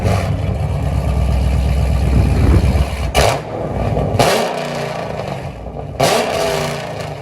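A Dodge Charger SRT with long tube headers, high flow cats, a mid muffler delete and stock rear mufflers revs loud and close: a rough idle, then three sharp throttle blips that each rise and fall back.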